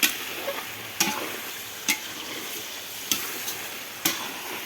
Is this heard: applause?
no